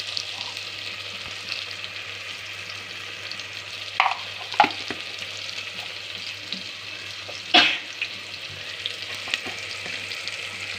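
Fenugreek seeds and spices fry in a pan as a steady, fine sizzle, broken by a few sharp crackles and pops from the seeds and stirring.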